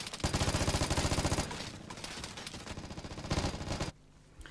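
Rapid automatic gunfire in the video game Vigor, loud, sustained bursts of shots that continue almost without pause before cutting off abruptly near the end.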